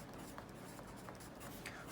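Quiet scratching of a pen or pencil writing out a math correction, a soft continuous rubbing with small strokes close by and no talking.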